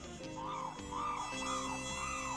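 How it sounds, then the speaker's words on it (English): Mosquitoes buzz in a steady, faint whine with wavering pitch over a tonal music-like background, lasting a couple of seconds without speech. "Dumb mosquitoes."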